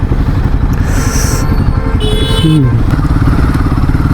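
A Royal Enfield Himalayan 450 motorcycle engine drones loudly and steadily on a morning ride, with a brief horn-like tone and passing traffic noise mixed in.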